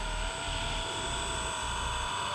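A Blade 150 FX RC helicopter hovers nearby with a steady, high-pitched whine from its rotor and motor, holding an even level throughout, with no talk.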